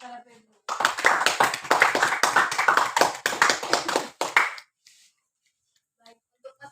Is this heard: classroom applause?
yes